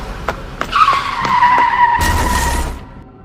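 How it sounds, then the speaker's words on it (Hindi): A car skids loudly as it strikes someone, a sustained high tire squeal that slides in pitch over a couple of seconds, ending in a short broadband burst of impact noise with a low rumble, preceded by a few sharp clicks. "गुल्ली एक गाड़ी से टकरा जाता है"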